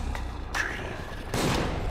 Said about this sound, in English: Dude, he's got a shotgun.